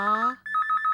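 A telephone ringtone plays after a number is dialed, a steady electronic ring pattern that shifts tone partway through, close and clear with no talk over it.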